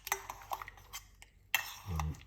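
Lemon and garlic mashed in tea with a utensil, several light clinks and taps against a cup followed by a short low scraping grind, close and quiet with no talking.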